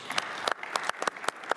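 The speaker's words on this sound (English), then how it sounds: "this kind of achievement need round of applause" A conference audience applauds in a plenary hall, a dense patter of many hands clapping with sharper individual claps standing out at an uneven rhythm, fairly close and continuous.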